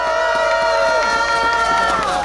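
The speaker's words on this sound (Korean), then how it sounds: "문근주 의원님께 뜨거운 박수 한번 부탁드리겠습니다" A rally crowd claps in a dense, steady patter of applause while a loud voice and tonal sound carry over it from a loudspeaker.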